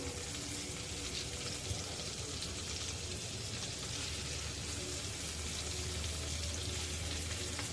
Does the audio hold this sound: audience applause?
no